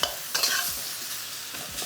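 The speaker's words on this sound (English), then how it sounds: "I'm just sort of chopping into the beef mince more before I then go underneath and fold over" Beef mince sizzling in a hot pan over high heat while a utensil chops and stirs through it, with a few sharp scraping clicks over a continuous frying hiss.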